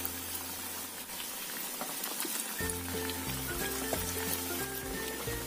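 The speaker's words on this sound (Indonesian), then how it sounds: "kita goreng sampai kuning keemasan atau sampai matang." Snacks frying in a pan of hot oil, a steady bubbling sizzle throughout at moderate level, with a brief clatter partway through, no voices.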